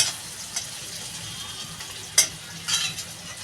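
Prawns fry in spice paste in a pan, giving a soft steady sizzle broken by a few sharp scraping clinks as a spoon stirs, with no talking.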